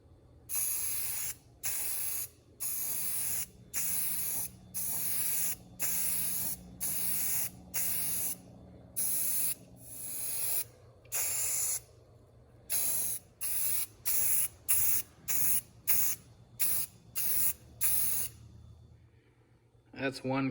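Repeated bursts of spray from a rattle can coating a restored Wilton bench vise with paint and primer, close hissing blasts of a second or so separated by short pauses, quickening toward the end before stopping.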